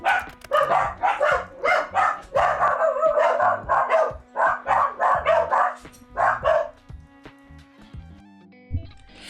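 Several dogs barking excitedly at home in rapid, repeated bursts, loud and close, some yips mixed in, continuing for most of the stretch before tapering off into quiet with a lone late bark.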